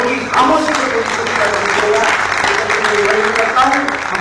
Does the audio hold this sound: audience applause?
yes